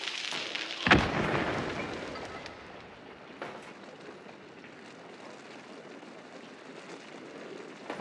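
A bomb goes off in a multiplayer shooter game: one sharp, loud blast near the start, then a long rumbling decay with a smaller thud partway through.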